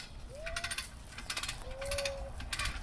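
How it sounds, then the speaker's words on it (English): Ratchet tightening a chain hooked around a hook outdoors, short bursts of quick clicking repeated four times at a moderate distance over a low background rumble, with faint bird chirps between. "start tightening this bad boy up."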